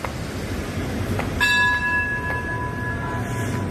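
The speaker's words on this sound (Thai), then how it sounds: "ระฆังให้สัญญาณครับรถไฟก็จะออกแล้วนะ" A bell rings as the departure signal for a train at a railway station, one sharp strike that leaves a clear, sustained ringing tone fading over a few seconds against background noise.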